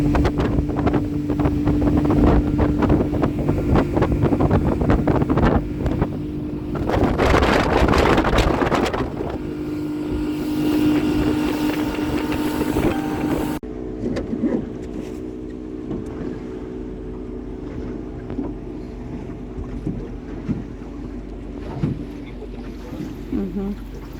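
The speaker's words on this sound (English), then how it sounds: "the wind is picking up" Wind buffets a salmon fishing boat out on the water, gusting loudly against the microphone over a boat's engine rumble, then easing to a lower, steadier hum.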